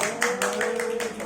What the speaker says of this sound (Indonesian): Tepuk tangan untuk Mas Robi